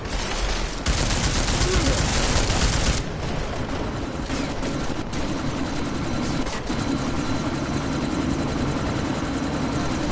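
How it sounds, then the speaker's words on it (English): Helicopter in the video game Deus Ex, a loud continuous rotor wash and engine roar, with a burst of rapid gunfire-like crackle near the start and sandstorm noise throughout. "you need to disable that chopper"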